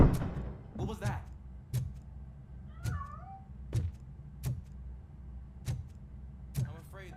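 A cat meows several times in the video game RoboCop: Rogue City, among sharp, regular clicks and thuds, with someone talking in between.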